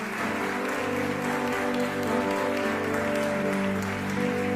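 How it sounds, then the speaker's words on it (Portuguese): A house-church congregation gives a dense, sustained round of applause, loud and continuous throughout without pauses, with a low tonal hum or music underneath and no talk. "vamos dar uma salva de palmas por essa família maravilhosa"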